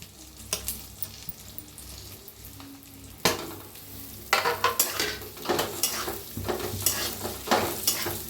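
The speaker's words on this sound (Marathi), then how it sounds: "मिक्स करून भाजूया." Cluster beans (gavar) stir-fried in a pan, with a steady low sizzle broken by repeated scraping and clinking strokes of a spatula, growing busier in the second half; no talking.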